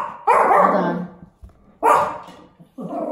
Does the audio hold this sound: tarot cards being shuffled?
no